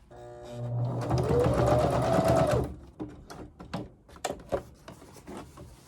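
A sewing machine stitches a curved seam, running in one steady motor whirr for about two seconds before switching to a series of short, uneven bursts as the fabric is guided along.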